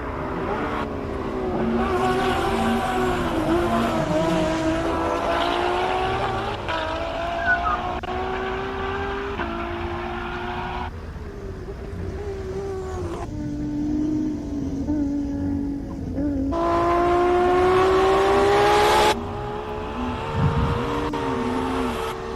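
A race car driven by Wade van Zumeren accelerates hard up the Simola Hillclimb, its loud engine howling through repeated upshifts with rising, falling pitch as it climbs, close and continuous with no talking.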